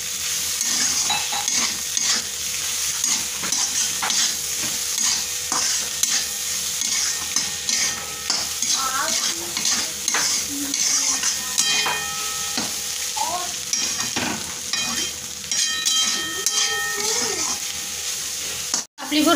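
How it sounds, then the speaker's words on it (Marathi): Egg bhurji stir-fried in a pan, with a steady loud sizzle and frying crackle running throughout, broken by the scrape and clink of a utensil stirring against the metal. "छान परतवून घेऊ।"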